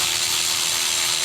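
A cordless power tool removing a bolt during an engine replacement on a Nissan Sentra with an MRA8DE engine: a loud, continuous, close-up whirring buzz that holds steady for the whole brief moment.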